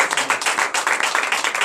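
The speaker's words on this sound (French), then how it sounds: "Donnez de vive acclamation au Seigneur." A congregation at a night deliverance service in Comè, Benin claps in a quick rhythmic burst, dense and close, without speech.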